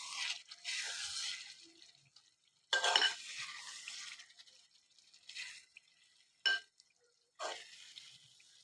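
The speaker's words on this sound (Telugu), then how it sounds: "ఇప్పుడు మన గుడ్లు అనేది ఇప్పుడు మనము తిప్పి వేసుకోవాలి" Eggs are turned gently in a pan of egg and spring onion curry. Several soft, separate bursts of scraping and stirring come between quiet pauses, faint and close.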